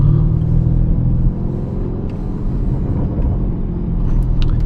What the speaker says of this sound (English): You can hear those valves open up.